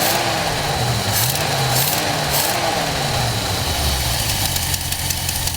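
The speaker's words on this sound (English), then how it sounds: "Okay, now that it's warmed up, it revs up just fine." A warmed-up car engine fitted with a Motorcraft 2100/2150 carburetor revs steadily, a loud close mid-pitched drone with rising and falling swells and some rattling knock, running alone without speech.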